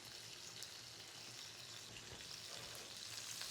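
Salmon sizzles quietly in a pan, a soft continuous hiss of frying fish that stays steady and undisturbed with no talking.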